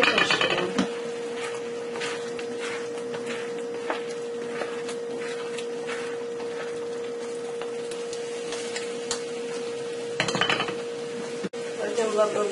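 A utensil lightly stirring salted eggs and tomatoes in a pan, soft scraping and occasional clinks against the pan over a steady background hum, with a louder clatter near the end.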